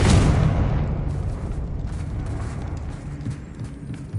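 A Confringo spell explosion in Hogwarts Legacy on PS5 opens with a loud, close burst and boom, then rumbles away into a fading roar over a few seconds.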